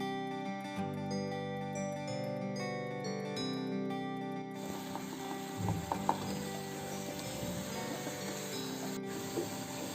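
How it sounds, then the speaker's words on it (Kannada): Banana pieces frying in a pan give off a steady, soft sizzle and hiss, faint and continuous, under a musical background with no talking. "ಅಮ್ಮ ಇಲ್ಲಿ ಬನಾನಾ ಪೀಸಸ್ ಅನ್ನು ಫ್ರೈ ಮಾಡ್ತಿರುವಾಗ"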